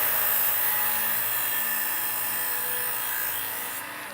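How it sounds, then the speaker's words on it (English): A small belt sander for knife sharpening, half-inch belt pre-angled for a standard kitchen knife, gives a steady high-pitched whine that runs unbroken and fairly loud, then tapers slightly at the end. "This little gadget is a 1/2-inch belt sander that's already angled for the average knife."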